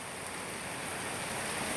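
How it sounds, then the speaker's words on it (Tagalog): Steady, dense rain falls outdoors in Camarines Sur as an even, unbroken hiss, moderately loud and with no voices over it. "Lakas ng ulan, guys. Malakas ang ulan."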